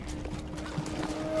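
Horse hooves clip-clop steadily in the video game Ghost of Tsushima, a continuous close trotting rhythm over busy game ambience and a low drone, lasting just over a second.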